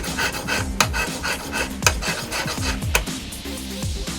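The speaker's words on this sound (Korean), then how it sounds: "바로 수천 번의 줄질이죠." A cast gold jewelry piece is filed by hand in a workshop, with rhythmic rasping strokes, each ending in a small metallic scrape, repeating up close and without talk.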